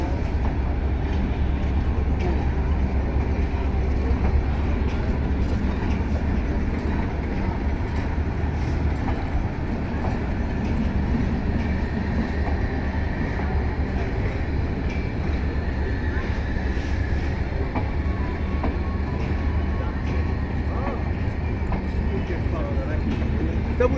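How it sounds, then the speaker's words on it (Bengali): Intercity express train departing Joydebpur station, a continuous loud low rumble of rolling wagons with faint rhythmic rail clatter and hiss throughout, close by, while voices murmur underneath. "জয়দেবপুর স্টেশন থেকে ট্রেনটি ছেড়ে যাচ্ছে"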